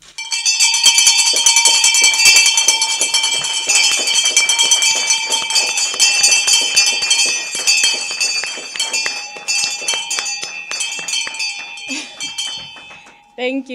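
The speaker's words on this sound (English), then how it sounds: "you can ring the bell as hard as you can" Stock exchange opening bell at a ceremony, struck hard and repeatedly in rapid, ringing metallic clangs for about twelve seconds, loud and close, slowing to a few scattered strikes before fading.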